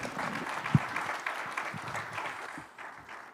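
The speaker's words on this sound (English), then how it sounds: "Another round of applause for Mr. Sherbon." An audience at a Namibia-EU business forum claps for a speaker, Mr. Sherbon: a dense, steady round of applause from a hall crowd, holding for a few seconds before thinning slightly toward the end.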